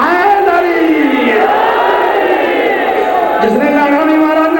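A large crowd at a 2005 majlis gathering in Sukheki Mandi roars back a chanted response to the Nara-e-Haidari slogan, many voices rising together in a loud, sustained unison cry.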